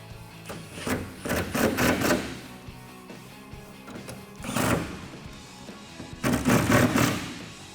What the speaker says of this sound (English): Then you can grab a 13mm socket and crank down on the clamps.